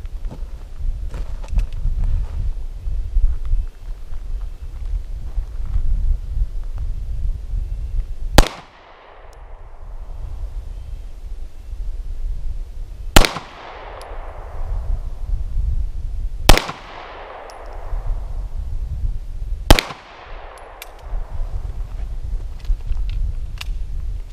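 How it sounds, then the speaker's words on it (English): Four sharp 9mm pistol shots from a Beretta 92FS firing Winchester White Box 115 grain full metal jacket round nose ammunition, spaced a few seconds apart, each with a ringing decay over low background rumble. "I've got my Beretta 92FS loaded with Winchester White Box 115 grain full metal jacket round nose"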